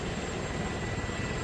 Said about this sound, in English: So that's an Apache. Helicopters are always loud